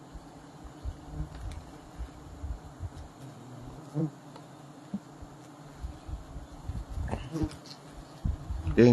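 Bees hum steadily around a tall forest tree during a wild honey harvest, a low continuous drone with a few sharper swells, while people talk faintly in the background.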